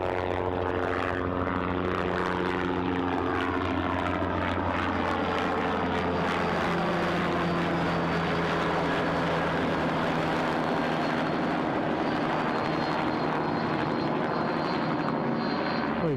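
A helicopter drones overhead with a rhythmic rotor thrum, loud and steady, its pitch slowly shifting as it passes.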